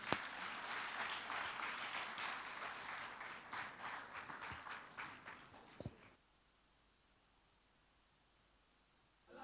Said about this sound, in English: A warm applause for Engineer Ganiyu Oseni